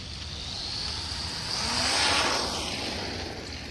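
Cheap, upgraded Wltoys RC car accelerating hard and pulling wheelies, a whining electric motor that rises to a louder peak midway and then fades, heard from a short distance.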